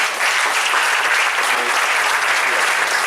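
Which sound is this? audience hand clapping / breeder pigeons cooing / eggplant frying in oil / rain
audience hand clapping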